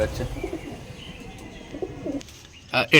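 Local Giribaz pigeons in a Rajshahi pigeon market coo softly in a few low, repeated calls, with faint chirps and a brief flutter near the end, and no talk over them.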